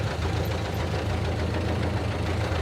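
A 1930 Ford Model A coupe, a barn find abandoned on a Minnesota farm, idles steadily with a loud, even knocking putter and vibration, close by and without talk.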